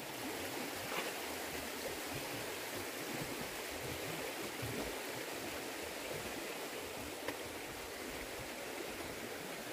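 Cold stream water flows in a continuous broadband rush, steady and moderately loud, with no voices.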